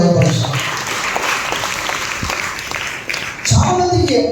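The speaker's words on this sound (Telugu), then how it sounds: "ఒకసారి మనం అందరం చప్పట్లు కొట్టి ప్రభువును మహిమపరుస్తాం" A church congregation claps hands together in praise during a Good Friday service, producing sustained, dense applause that fills the hall, with voices rising over it at the start and end.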